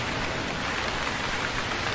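Heavy rain pours down steadily in the survival video game Stranded Deep, a dense, even hiss of downpour with no pauses and no voices.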